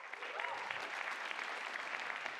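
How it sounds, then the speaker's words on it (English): Polite applause from a small crowd, a steady patter of scattered clapping lasting a couple of seconds at moderate volume. "Polite applause"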